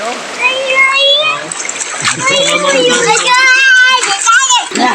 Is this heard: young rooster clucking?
no